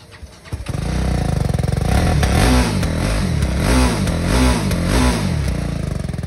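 Engine of a second-hand BMW motorcycle at an outdoor used-bike market starts and revs close by, a loud throbbing rumble rising in repeated blips of throttle over six seconds, with no talk.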